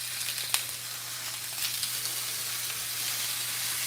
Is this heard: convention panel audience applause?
no